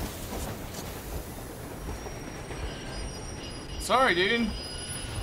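Moving train in the Metro Exodus video game, a steady rumbling roll running through the whole stretch, with a brief voice cutting in near the end.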